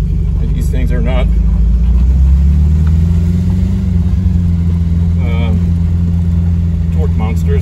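A 1972 Fiat 850 Spider drives along with a steady low engine drone that rises and shifts in pitch as it accelerates, close and continuous, while someone talks over it throughout.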